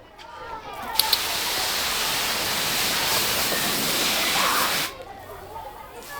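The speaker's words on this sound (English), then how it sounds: "Can't use too much water pressure though." Pressure washer spraying water across an Indian sandstone patio, a loud steady hiss of spray running for about four seconds before cutting off, with a couple of sharp clicks as it starts.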